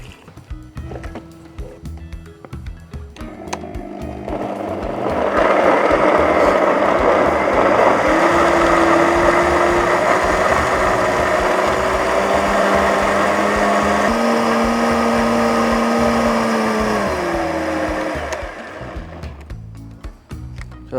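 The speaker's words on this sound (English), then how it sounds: "it's really a giant blender, so fast and smooth." A large electric blender whirs through ginger, garlic, pepper and water, starting with a lower grind and then rising into a loud, steady high-speed whine that shifts pitch slightly before winding down.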